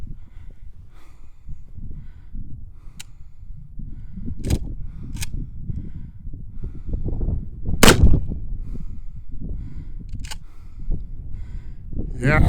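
A KelTec KS7 pump shotgun is fired outdoors in several sharp, loud blasts spread irregularly across the span, with people talking in between and under the shots.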